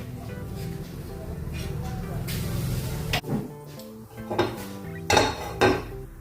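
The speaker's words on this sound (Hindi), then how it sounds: "मैंने पैन रखा है, अभी इसमें हम तेल डालेंगे।" A pan is set down and handled on a stove before oil is poured in for frying aloo daliya tikki, with metallic clinks, knocks and scrapes of cookware, close by, while someone speaks over the first half.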